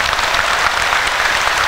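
Audience applause at a religious talk, a loud, dense and steady burst of many hands clapping together without pause, with no voices over it.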